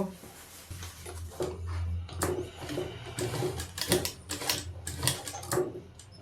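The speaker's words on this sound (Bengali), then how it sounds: "এবার একটা এক চাপ দিয়ে সেলাই যেটা ছিল ওই সেলাইটা করে নেব" Sewing machine stitching a zipper onto a jacket, with bursts of rapid mechanical needle clatter that start and stop, plus low motor hum and some handling noise, recorded close.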